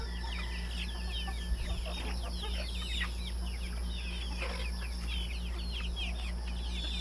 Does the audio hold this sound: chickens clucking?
yes